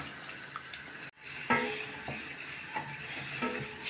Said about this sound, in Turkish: Burada da bir miktar sıvı yağ ve tel şehriye ile kavuruyorum.